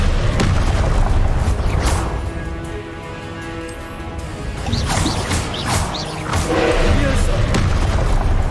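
Spells cast in Hogwarts Legacy, including Expelliarmus, come through as heavy magical booms and crashing bursts, loud and repeated in quick succession over continuous game noise.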